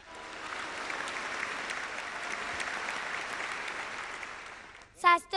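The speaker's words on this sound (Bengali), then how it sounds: "যাওয়ার আগে ম্যাজিশিয়ানের জন্য জোরে হাততালি।" Sustained applause from a studio audience for a magician on a Bengali children's dance show, an even wash of clapping that fades out near the end before a short burst of music or voice.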